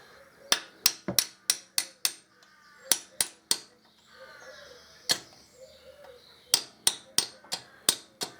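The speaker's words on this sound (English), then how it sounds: "a large punch and a tapping stick" A large metal punch struck with a tapping stick on a pulley of a 2002 Harley-Davidson Dyna Wide Glide, sharp close repeated taps in quick uneven bursts, with a pause and faint background sound between strikes.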